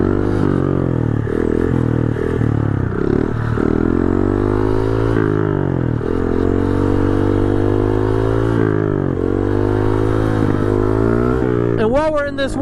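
A Honda CRF110 motorcycle engine revs loud and close while the bike holds a wheelie, its buzzing note swelling and dipping with the throttle nearly the whole time, then sharply rising near the end.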